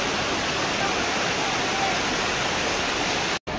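Rushing water from the waterfall at Makardhokada Dam near Umred, Nagpur, a busy tourist spot: a dense, loud, unbroken roar filling the whole stretch, heard close with no other distinct sounds, cutting out briefly near the end.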